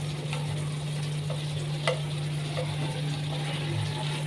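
Roasted ridge gourds tumbling into a simmering gravy and being stirred, a steady low hum underneath with soft scraping and a few brief clinks, no talking.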